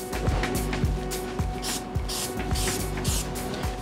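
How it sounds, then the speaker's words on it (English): Glue activator is sprayed from an aerosol can behind a piece of base moulding, several short hissing bursts in a quick rhythm, close and fairly loud. "And this activator I'm gonna spray behind me,"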